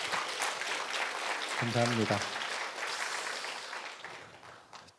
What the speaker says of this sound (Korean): 우리 라운성가대한테 한번 용기의 박수를 한번